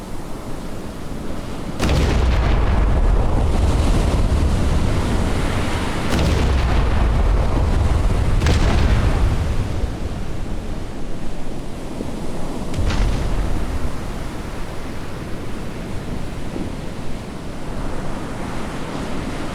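Naval gunfire and explosions in the game Battleship Command: several deep, rumbling booming blasts roll out over a continuous roaring wash, with sharper cracks between them; no voices.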